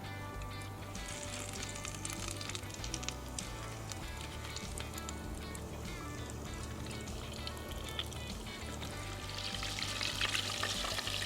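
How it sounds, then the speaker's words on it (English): Bacon rings deep frying in oil at about 375 degrees Fahrenheit, giving a continuous dense sizzle and crackle that holds steady throughout and grows brighter near the end, with no talking. "time to drop those bacon rings. Running my oil at about 375 degrees Fahrenheit"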